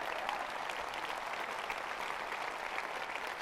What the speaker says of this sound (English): Now, let's have another round of applause for her and the great job she's doing.